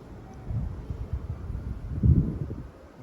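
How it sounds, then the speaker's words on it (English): Gusty wind rumbles across the microphone outdoors on a very windy day where birds are being flown, a low, uneven buffeting that swells in bursts, strongest near the end, with no talking. "Really windy today."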